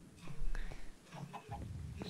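Chicken clucking in Minecraft, a few short soft clucks and game sounds mixed under quiet whispery talk.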